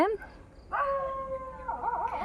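Pet dog Jackie howling in the evening at a Kerala village house, one long rising and wavering howl close by after a brief yip, with a person talking around it.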